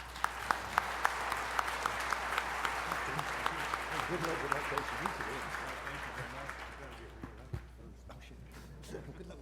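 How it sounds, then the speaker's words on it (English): At a Montana energy policy panel, the audience applauds the panelists with a sustained burst of clapping that gradually thins and fades out in the last seconds, leaving a few scattered claps over a low hum. "let's give them a round of applause"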